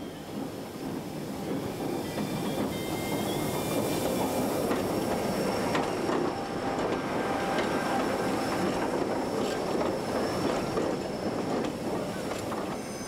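A Jungfraubahn electric rack railway train from the early 1990s rumbles steadily along the track, a continuous dense roar with faint high squeals and metallic rattling throughout, close and loud.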